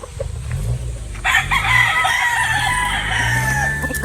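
Boston broodstag rooster crows loudly and close by in one long, strained call, preceded by a few low clucks and set against faint outdoor background noise.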